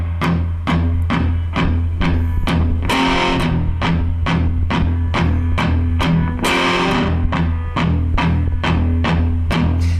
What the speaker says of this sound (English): So from the start of that verse, it'll sound like this